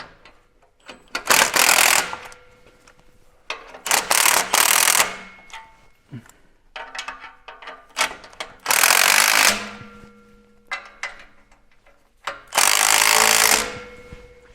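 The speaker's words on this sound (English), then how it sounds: "we'll switch back to our 13 millimeter so I can get this flange tightened up here" Ratchet wrench with a 13 millimeter socket tightening exhaust flange bolts on a Ford truck: loud, close bursts of rapid ratcheting clatter, each lasting a second or two, separated by quieter pauses with faint metallic clanks.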